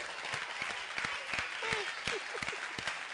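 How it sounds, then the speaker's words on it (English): Applause from a studio audience, steady, full clapping from many hands at moderate distance, with a few brief voices and cheers mixed in. "give Elmo a big round of applause"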